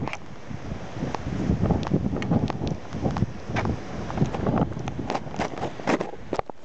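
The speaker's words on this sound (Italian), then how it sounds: "C'è vento" Wind blows hard across the microphone at Bagnoli beach near Naples, a rough, gusty roar with constant buffeting thumps and rustle, close and loud with no voices.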